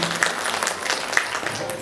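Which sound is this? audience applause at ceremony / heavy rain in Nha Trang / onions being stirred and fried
audience applause at ceremony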